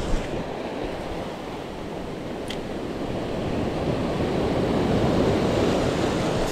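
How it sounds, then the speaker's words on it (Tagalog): Strong sea waves surge and wash continuously around a fishing boat at sea, a dense, rushing roar mixed with wind buffeting the microphone, growing slightly louder toward the end. "Naglalakas ng alon, guys."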